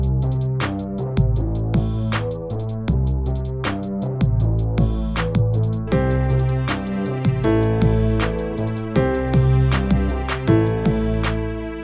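A chord progression from the Captain Chords MIDI synth plugin plays a pattern using an alternate root chord. Sustained synth chords over a steady, punchy beat run continuously and loud, with no voices.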